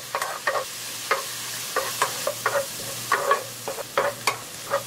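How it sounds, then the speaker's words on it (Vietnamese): Chopped onion and minced garlic frying in hot oil in a pan, with soft crackling sizzle and repeated stirring scrapes in short bursts, close and fairly quiet, no talk. "tỏi băm vào phi thơm."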